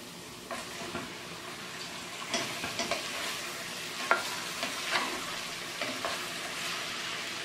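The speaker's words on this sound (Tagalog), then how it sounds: "Medyo ipa-fry lang natin ng konti ang ating chicken." Chicken for a Filipino-style chicken curry frying in a pan, a steady soft sizzle broken by scattered scraping and stirring knocks, close by with no talk.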